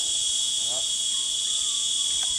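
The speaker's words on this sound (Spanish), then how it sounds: "¿Cómo se escucha el grito de las chicharras?" Loud, steady high-pitched buzzing drone of cicadas calling along the path from Zapotitlán, Oaxaca, continuous and close, with faint distant sounds underneath.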